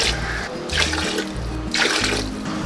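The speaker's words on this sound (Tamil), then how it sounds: "தண்ணி வந்து 16 டம்ளர் ஊற்றியாச்சு." Water is poured tumbler by tumbler into a cooking pot for rice, with repeated splashing bursts in a steady rhythm, close and fairly loud, with no talk.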